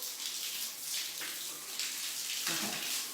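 A bathroom tap runs steadily as the water warms before wetting hair, a continuous hiss and splash close by with slight shifts in the flow, and no speech.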